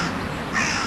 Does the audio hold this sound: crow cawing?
yes